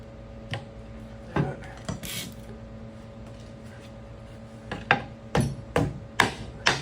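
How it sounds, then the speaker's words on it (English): Sharp metal-on-metal claw hammer strikes ring out close by, knocking bump stops off a 1960-62 Chevy C10, a few scattered blows early, then a quicker run of hard knocks near the end. "Got my trusty claw hammer."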